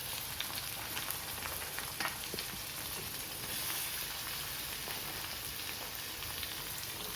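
Onion, tomato, cashews, ginger and garlic frying in a pan, a steady dense sizzle that stays even and continuous from start to finish.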